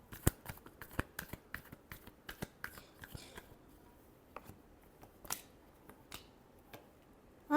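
Tarot cards are shuffled by hand in a rapid series of crisp riffles and snaps, close and fairly clear, thinning out into a few sparse taps toward the end, with no talking.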